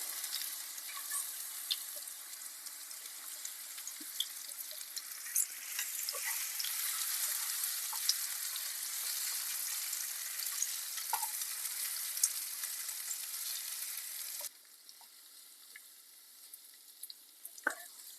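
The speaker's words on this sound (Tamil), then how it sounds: "அதே பேனில் கட் பண்ணி வச்சுருக்கிற பனானாவையும் சேர்த்து நல்லா வதக்கி எடுத்துக்கலாம்" Chopped ripe banana sautéing in a pan for a banana cake, a steady soft sizzle and crackle with occasional stirring clicks, fading quieter near the end.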